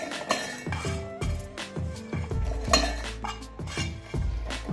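Metal utensils clink and scrape against dishes while cooled wet pigeon pea curry mixture is moved into a mixer jar, a series of close, bright knocks and rattles at an irregular rhythm.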